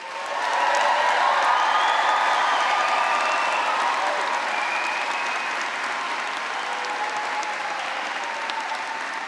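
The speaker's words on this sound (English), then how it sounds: "Everyone, please join me in applauding American College of Education's graduating class of" An audience at a 2019 college commencement ceremony applauds the graduating class, a broad sustained roar of clapping with some crowd noise and faint cheers, swelling quickly and holding steady throughout.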